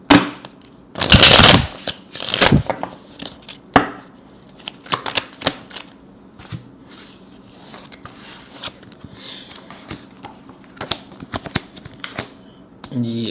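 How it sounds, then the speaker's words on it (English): Tarot cards being shuffled with quick riffling and snapping bursts near the start, followed by softer handling sounds and a voice talking intermittently. "flip the deck. Okay, shuffle."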